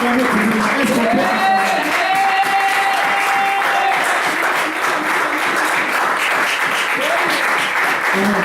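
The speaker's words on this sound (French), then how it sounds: "Est-ce qu'on peut acclamer cette parole? Alors, vous acclamez toujours." A church congregation bursts into sustained, loud applause and cheering that fills the whole stretch, with a voice or two rising over the dense clapping.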